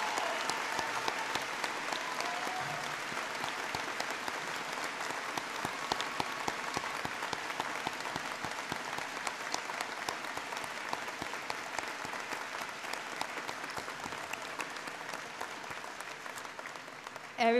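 Audience at a college commencement ceremony, at MWCC's 49th, clapping in sustained, dense applause that runs steadily and fairly evenly for the whole stretch, heard from within a large crowd.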